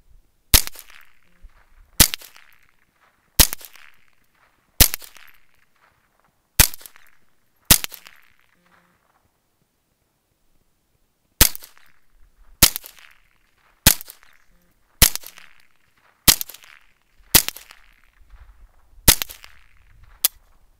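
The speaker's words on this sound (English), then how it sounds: "This gun, 22 long rifle, much more reliable though. Almost never get a misfire out of this little guy." A Ruger .22 Long Rifle fires a string of sharp, loud single shots outdoors at regular intervals, each crack followed by a short fading tail. After about six shots there is a long pause, then a second run of shots.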